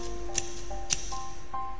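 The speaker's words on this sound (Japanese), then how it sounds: "あ、これをハサミか。" Snipping scissors in a video game, a few crisp metallic snips with bright clinks spaced through a short quiet stretch over a faint electronic tone.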